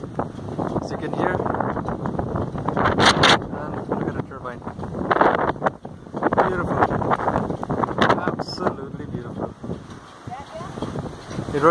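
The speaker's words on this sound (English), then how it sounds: "It's quite windy, as you can hear." Gusty wind buffets the microphone in a steady roar, rising and falling, with indistinct voices underneath.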